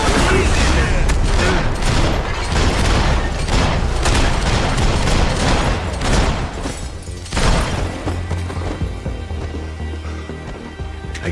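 Dense rapid gunfire in Max Payne 3, sustained bursts of shots and booms filling the first seven seconds, then a final loud volley trailing into quieter echoes.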